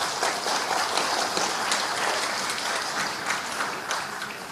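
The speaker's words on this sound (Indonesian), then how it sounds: "Nggak usah tepuk tangan" An audience at an Indonesian employers' association forum breaks into sustained applause, a dense, even wash of clapping that fills the room without pause.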